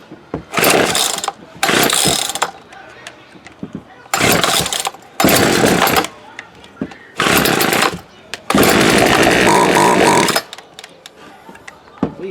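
A Poulan Wood Shark chainsaw that has not run in years, after a primer bulb replacement, sputtering through repeated loud start attempts: short bursts of engine noise and pull-cord rasps separated by pauses, ending in a longer two-second run.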